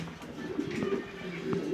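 Giribaz pigeons coo softly in a loft, low throaty murmurs overlapping in gentle pulses, heard close amid faint room noise.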